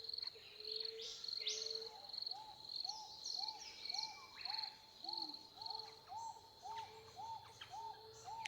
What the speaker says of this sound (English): as the birdsong once again brings the silence to a gentle close